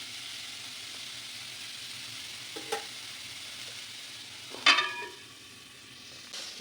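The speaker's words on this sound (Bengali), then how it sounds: "একটা শুকনো লঙ্কা ফোড়ন দিয়েছি আর কালো জিরে ফোড়ন দিয়েছি দিয়ে থোর আলু ভাজা" Banana stem and potato frying in a pan with dried chilli and nigella seeds, a faint steady sizzle underneath, with a couple of brief clatters of stirring or utensil contact.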